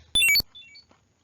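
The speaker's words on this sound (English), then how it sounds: "the first phrase of the 3rd cycle has 3 sonic events: Mac swinging, Mac hitting, and Mac achieving a star" Punch-Out video game effects: a short burst of chiptune bleeps for a boxer's swing and punch landing, followed by a brief rising electronic tone for earning a star, all clean and isolated.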